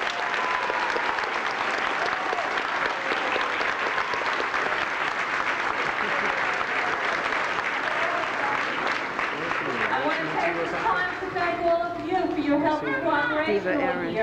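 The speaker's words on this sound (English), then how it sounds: "Give them another round of applause." A crowd applauds kindergarten graduates in a steady, dense wash of clapping that fills the room, with voices rising over it toward the end.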